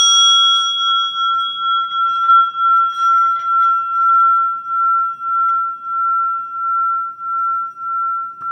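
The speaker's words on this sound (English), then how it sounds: "I'm going to go ahead and clear with my bell just to kind of keep it smooth." A single bell tone rings out clear and sustained, holding steady for about eight seconds as it slowly fades, with no talk over it.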